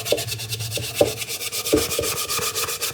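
Wax worked by hand into shellacked plywood with raised grain, a close, continuous rubbing in quick back-and-forth strokes with a few soft knocks along the way.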